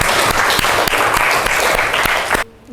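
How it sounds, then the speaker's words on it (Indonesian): A classroom group claps together in a dense, steady burst of applause for a couple of seconds, then it stops abruptly. "Oke, beri tepuk tangan untuk Okta."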